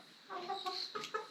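Backyard chickens cluck in a soft, uneven run of short calls near an organic garden, faint but clear with no talking.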